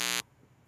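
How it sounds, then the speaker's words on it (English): A loud electronic buzzer, likely from a clothes dryer, sounds once as a steady harmonic tone for about a fifth of a second, then cuts off into quiet room background. "Oh, I just heard a buzzer."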